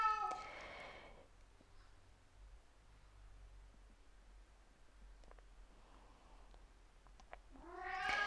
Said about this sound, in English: Please excuse my kitty who you hear in the background.